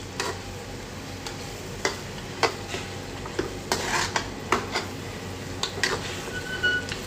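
A spoon scraping and clinking against a pot while Chettinad mutton curry is stirred, with irregular close knocks over a soft steady sizzle.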